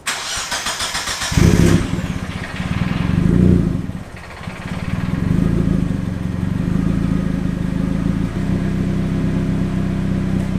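A turbocharged Mazda Miata NB engine cranks with a rapid starter whir, catches and roars loudly, revving briefly before settling into a rough, loud idle close by.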